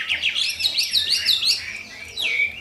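A songbird chirps close and loud, repeating bright, sweeping whistled notes in a quick run and then adding a final phrase after a brief pause.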